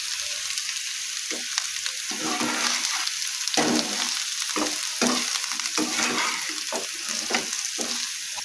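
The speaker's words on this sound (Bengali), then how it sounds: "তো দেখো এখানে আমার ডাঁটাটা ভাজা হয়ে গেছে" Drumstick stems and potatoes fry in a pan with a steady, bright sizzle. Repeated scraping strokes of stirring come through close and clear, and no one speaks.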